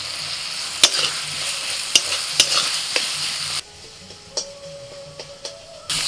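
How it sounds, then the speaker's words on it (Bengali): Masala with chopped tomato is sautéed in a pan, with a steady sizzle and sharp, irregular clinks and scrapes of a utensil against the pan. The sizzle drops quieter midway. "আস্তে আস্তে মশলাটাকে খুব ভালো করে কষিয়ে নিতে হবে"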